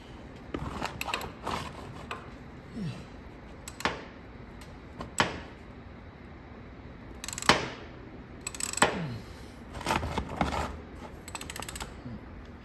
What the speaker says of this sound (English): let's break this bolt loose, and then we'll drain and go from there